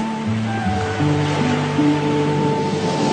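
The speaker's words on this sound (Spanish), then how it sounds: "Cuando una ola se acerca a la orilla, entra en contacto progresivo con el lecho del mar" Ocean waves breaking on a shore: a steady wash of surf at moderate level, with a faint droning tone running underneath and no voices.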